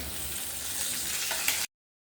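Ground spice paste hitting hot sesame oil after mustard seeds, for a pepper kuzhambu, gives a steady broadband sizzle up close, with a slight burst of crackle just before it cuts off.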